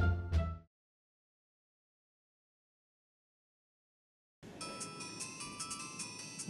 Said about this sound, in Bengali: ये আবার কার ফোন?